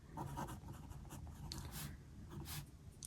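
A pen scratches across a paper planner in short strokes and taps, close and quiet, with no talk.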